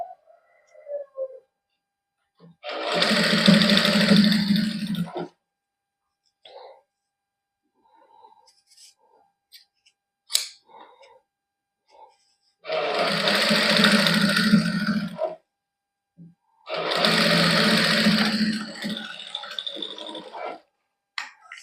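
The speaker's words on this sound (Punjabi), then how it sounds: "ਇਹਦੇ ਉੱਪਰ ਸਲਾਈ ਲਾ ਲਾਂਗੇ" Sewing machine stitches lace onto organza suit fabric in three bursts of close, loud whirring, each a few seconds long, with quiet pauses and small handling clicks between.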